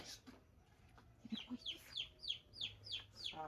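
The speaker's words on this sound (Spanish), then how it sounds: "Oh, tiene pollitos." Faint, high peeping from chicks repeats in a quick steady series over a soft background hum.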